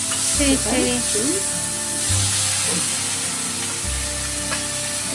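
Boiled tuber pieces fry in sesame oil for a tamarind puli kolambu, giving a steady close sizzle and hiss with occasional stirring, while voices talk over it throughout.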